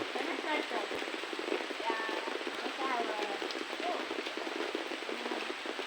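Steady patter of monsoon rain falling on jackfruit tree leaves in Konkan forest, a soft continuous hiss with faint voices underneath.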